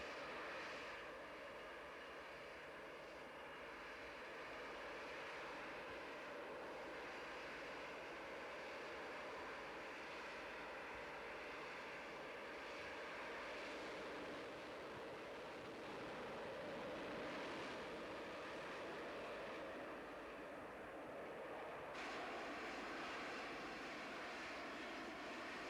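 A vertical take-off jet hovers at the Farnborough 94 airshow, its engine giving a loud, steady roar with a broad rushing hiss that holds throughout, swelling slightly and shifting near the end.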